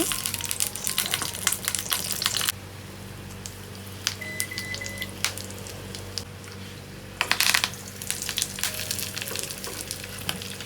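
Fish fries in a pan with gravy, a steady close sizzle with louder crackling bursts and occasional light metallic clinks.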